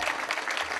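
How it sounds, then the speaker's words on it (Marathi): Audience applause at a kirtan, a brief dense burst of clapping from a crowd, close and fairly loud. "सर्वांनी टाळ्या वाजवा."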